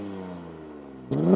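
A 2026 Dodge Charger Scat Pack with active exhaust and dual exits hums quietly at idle, then gives one sharp, louder rev blip near the end.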